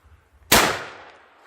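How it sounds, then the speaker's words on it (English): A single loud shotgun blast firing a Remington Nitro steel shotshell outdoors, a sharp close crack followed by a fading roll of echo. "Next we got this Remington Nitro steel. The box said 1300. Let's see how close to 1300 we get here."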